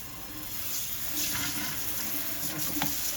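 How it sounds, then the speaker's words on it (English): Tap water runs steadily into a single kitchen sink while a scrubbing brush is rinsed under it, a continuous close splashing rush with small bursts and no speech. "Rinse out the scrubbing brush."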